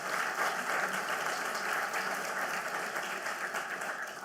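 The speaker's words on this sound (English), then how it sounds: "if we could have one last round of applause for all of our presenters" Steady, dense applause from a conference audience for exhibition presenters at an industry event, a continuous wash of many hands clapping at even loudness throughout with no voices.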